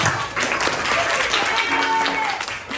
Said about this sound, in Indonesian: Kita berikan tepuk tangan untuk kita